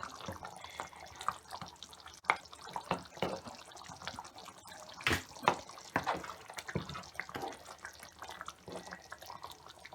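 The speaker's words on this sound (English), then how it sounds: "Now let it boil." A seafood boil pot with crab in it bubbles and gurgles nearby, uneven liquid pops and splashes coming in irregular bursts at moderate volume.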